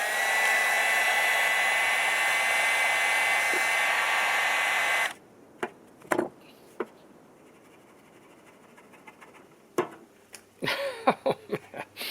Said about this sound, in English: I'm going to try the heat gun first.